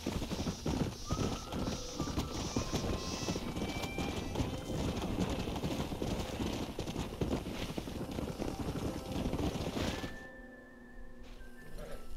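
Horse hooves clip-clop steadily and loud at a gallop in the Red Dead Redemption video game, with a continuous rush of hoofbeats for about ten seconds before they drop away to a quieter, sparser ending.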